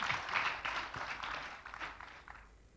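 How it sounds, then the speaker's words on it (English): Audience applause at an ASEAN energy sector panel event, faint scattered clapping from a hall that tapers off over a few seconds, with no talking. "So please give a big applause for Pak Satya."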